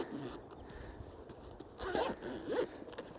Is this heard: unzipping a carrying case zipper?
yes